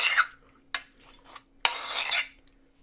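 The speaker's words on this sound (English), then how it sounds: "Mixing up the spread. Giving it a little stirry stir." A spoon scrapes and stirs a mayonnaise spread in a bowl, giving a few short rasping strokes with brief pauses between them, close and fairly quiet.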